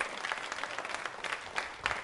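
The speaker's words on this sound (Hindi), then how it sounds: "हीना जी के लिए तालियां जोरों से बजाइए" An audience at a Diwali-themed music quiz show applauds, a fairly soft but continuous patter of many hands with occasional louder bursts.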